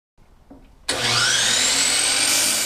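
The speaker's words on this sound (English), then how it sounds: "Here I'm cutting the lower shelf to length and then to width." A table saw spins up and cuts a wooden board for a shelf, a sudden loud, steady whine after faint quiet handling, sustained at close range to the end.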